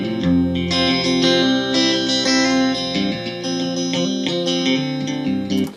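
An electric guitar played through an amp simulator with SM57 microphone emulation rings out distorted chords and notes with chorus-like shimmer, loud and continuous with no talking.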